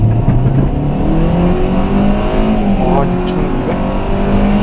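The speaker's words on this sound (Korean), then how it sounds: "풀악셀을 해서 가속했을 때는 스포츠 모드에 놓고 풀악셀 해볼게요" A Kia K3 in sport mode at full throttle accelerates hard, its loud engine note heard from inside the cabin rising steadily in pitch through the gear, with a voice faintly under it.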